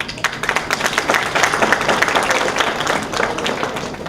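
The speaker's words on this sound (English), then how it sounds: "A big round of applause." An audience applauds at an international culture conference in Lahore, a steady, fairly loud patter of many hands clapping throughout with no clear pauses.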